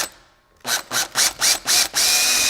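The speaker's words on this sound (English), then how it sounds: "And drill in just a hair." A power drill bites into a safe dial in five short, close, whining bursts, then runs in one steady stretch.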